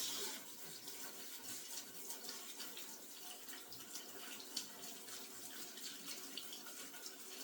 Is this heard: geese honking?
no